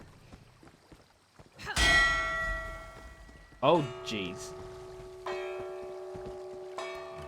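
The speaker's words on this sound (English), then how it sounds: "Who has rung bell and woken Sadir?" A large bell rings in the Elder Scrolls Online game, with several loud resonant clangs, each ringing out and decaying slowly, while a man briefly exclaims between them.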